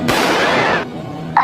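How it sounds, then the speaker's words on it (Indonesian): A loud, sharp blast rings out and decays over most of a second, followed by a shorter burst near the end, like gunfire. "terdengar suara tembakan"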